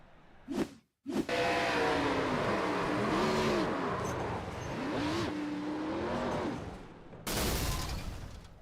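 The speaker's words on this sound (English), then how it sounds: "that bang there, that was the engine giving up" Race car engine in a racing video game, an Xfinity Series car at Phoenix after hitting the inside SAFER barrier, roars steadily at full throttle with a sharp bang near the start and another burst near the end.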